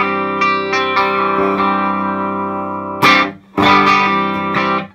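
Electric guitar through a clean EL84 tube amp with bass at 9 o'clock, treble at 10 and volume at 11: sustained strummed chords ringing out, then several sharp, bright strums with brief pauses between them.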